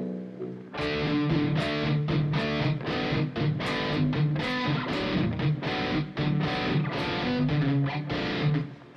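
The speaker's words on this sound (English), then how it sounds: "if you just take off the distortion, right?" A heavily distorted instrument plays a steady, dense rhythmic pattern of chords, loud and continuous with no voices over it.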